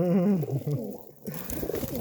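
Pigeons coo in a low, warbling burble at the start, followed by softer, muffled murmuring, close and fairly loud.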